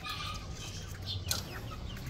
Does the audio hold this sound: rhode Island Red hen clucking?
yes